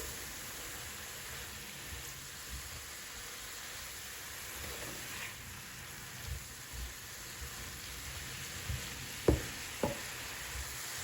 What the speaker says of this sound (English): And now stir the bean sprouts so they cook evenly.